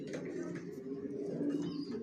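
Johnson-line racing pigeons coo softly and continuously up close, a low rolling murmur with a few faint higher chirps above it.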